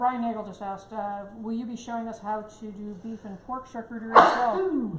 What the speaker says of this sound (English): Pepper sneeze.